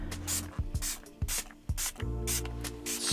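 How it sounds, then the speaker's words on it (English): Several short spray bursts of liquid onto a Ford Mustang Mach-E touchscreen during installation of a Screen ProTech screen protector, each broad hiss landing in an irregular rhythm amid faint handling noise. "Spray the screen again."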